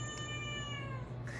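A cat gives a sustained, drawn-out meow, close and fairly faint, over a low steady hum, while being held indoors in a home kitchen.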